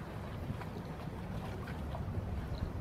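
A Bình Định night net fishing boat speeds up hard at sea, its steady engine drone and rushing water and wind noise filling the scene without pause.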